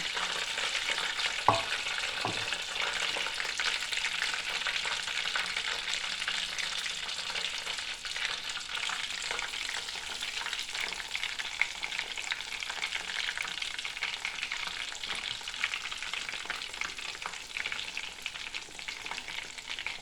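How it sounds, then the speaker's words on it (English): Breaded chicken donuts deep frying in hot oil make a constant, loud bubbling sizzle, with a couple of sharp knocks near the start; no voices are heard. "I'm going to fry up the rest of these"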